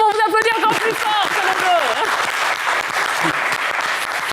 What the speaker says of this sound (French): Allez, bravo, vous applaudissez encore plus fort